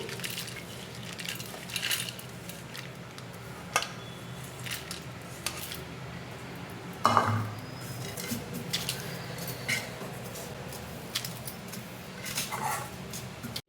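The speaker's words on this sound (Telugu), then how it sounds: "మనం ఫ్రై చేసుకున్నవన్నీ ఇలా గిన్నెలోకి తీసేసుకోవాలి" Fried ingredients for a gongura pickle scraped from a kadai into a bowl, giving scattered metallic clinks and scrapes of spoon on pan, with one louder clatter midway, fairly close with no talking.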